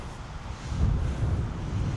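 Headwind buffeting a microphone outdoors on a disc golf course, a brief low rumbling gust that swells and eases over about two seconds.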